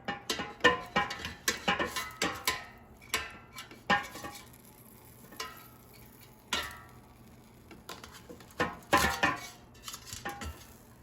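Frozen chicken thighs are flipped in an air fryer basket, producing a series of close, crisp metallic clicks and taps from tongs against the basket, irregular and spaced with short pauses.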